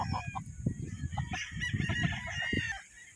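A pure white Kelso rooster crows close by, its call rising over a background of clucking hens and other fowl on a farm, with no talk.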